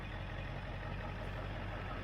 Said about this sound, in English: finally got the truck started.